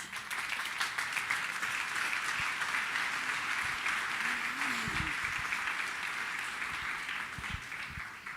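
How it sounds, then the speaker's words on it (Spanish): A church congregation applauds at a Sunday service, with a steady wash of clapping in a large reverberant room and a voice speaking briefly through it partway along. "¿Le puede dar un aplauso a nuestro amado Dios?"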